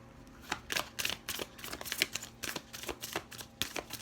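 Shine Your Light oracle cards by Rebecca Campbell are shuffled by hand in a quiet room, a run of close, crisp riffling bursts repeating in a loose rhythm, with no talk.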